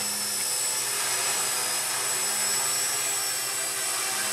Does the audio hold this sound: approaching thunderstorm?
no